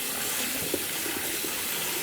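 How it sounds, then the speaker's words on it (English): Cold tap water running steadily over drained beans in a sink, rinsing off starch during preparation of a Moroccan lamb stew; a continuous, moderately close splashing flow with no talking. "Now we'll just rinse with cold water."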